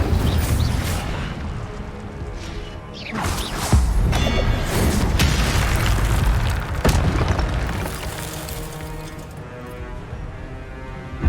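Incendio fire spell being cast during combat in Hogwarts Legacy on hard difficulty, with repeated heavy booms and whooshing blasts layered over a dense, continuous roar of battle effects.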